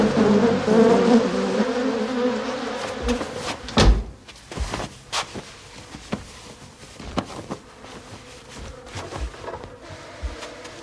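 Angry bees swarm and buzz loudly at first, then the drone thins out among scattered knocks and clatters.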